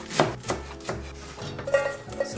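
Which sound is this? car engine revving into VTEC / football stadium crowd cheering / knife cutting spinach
knife cutting spinach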